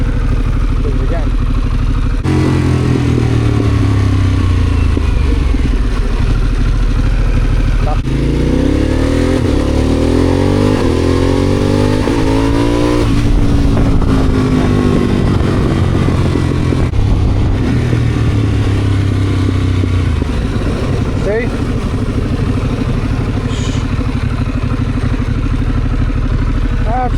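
A 2024 Harley-Davidson Pan America CVO motorcycle engine with reported faults revs up and down repeatedly, close and loud, with clattering mechanical noise and sweeping pitch changes that run unbroken throughout.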